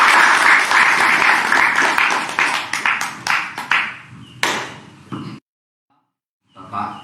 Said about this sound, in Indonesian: Untuk itu tepuk tangan buat Bapak Agus Anwar Jatmiko.